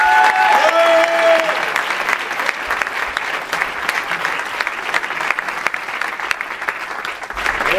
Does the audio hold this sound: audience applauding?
yes